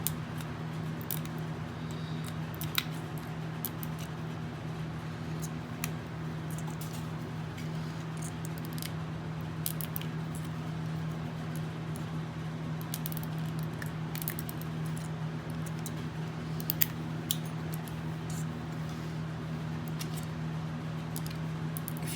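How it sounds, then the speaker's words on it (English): Small snips and scratchy cuts into thin brass sheet while forming grooves for a decorative brass rose, sparse sharp clicks scattered over a steady low electrical hum, close and quiet. "And then just cut into the little grooves here,"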